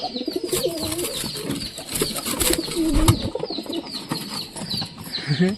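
A stray pigeon shut in a cage coos in low repeated rolling calls, close by, with some wing shuffling and other birds faintly around.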